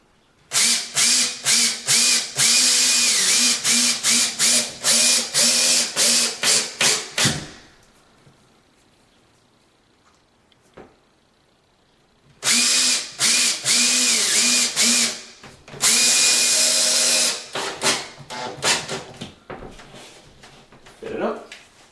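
Power drill driving drywall screws through a cut patch into a wall hole, with two long stretches of whirring in stuttering, repeated pulses close by and a quiet gap between them.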